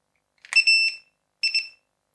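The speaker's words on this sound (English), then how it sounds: "It make a couple beeps and it go quiet." A Motorola RF key-tracking device gives two short bursts of bright electronic beeps, a longer multi-tone chirp followed by a shorter one, close and clear against silence.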